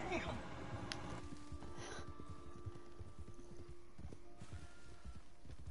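Old horse's hooves clip-clopping at an outdoor viewpoint, a faint uneven patter of hoof steps with soft breaths and a distant voice in the background.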